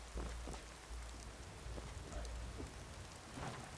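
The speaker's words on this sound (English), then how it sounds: "I mean, it is pretty rainy." Steady rain pours in the video game Skyrim during a carriage ride, a dense constant hiss with scattered drops and a faint low rumble, no voices.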